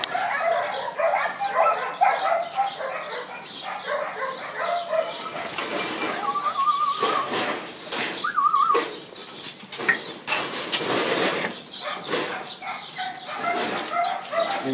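A hunting dog barks wildly outdoors during a hare hunt, sharp repeated yelps scattered across the scene at moderate distance, with birds and a rooster calling in the background.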